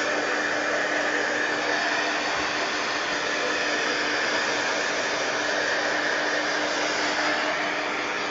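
A heat tool or hair dryer blows steadily and loudly for the whole stretch, drying matte medium on a Christmas-themed mixed media art page, with a constant broadband whoosh and no talking.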